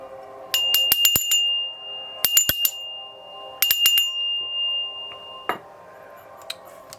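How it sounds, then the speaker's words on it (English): A small bell is rung three times, each ring a quick cluster of bright metallic strikes that hang and fade, close and clear in a quiet room with a soft tap afterward. "I'm going to be ringing the bell 3 times."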